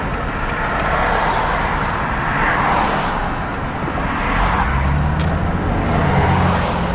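Base V6 Dodge Challenger driving at low speed, a steady rumble with road and tyre noise that swells and eases slightly while the car pulls in to park.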